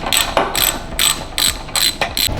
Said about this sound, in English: 4 minutes of straight ratcheting by hand.